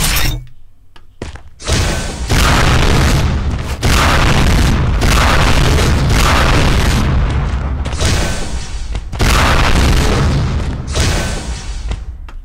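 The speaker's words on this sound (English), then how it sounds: "Rocket launcher." Rocket launcher explosions in Unreal Tournament 4 go off in a rapid series of loud, heavy booms with crackling blasts, one after another, with no talk.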